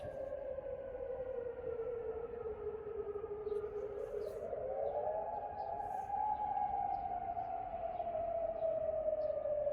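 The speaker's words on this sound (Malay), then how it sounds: "Tu siren tu." A civil defense alert siren wails from a roundabout in Jordan during an emergency, a steady sustained tone that slowly rises and falls in pitch over a constant background rumble, heard at a distance.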